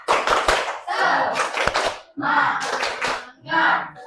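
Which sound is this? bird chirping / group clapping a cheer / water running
group clapping a cheer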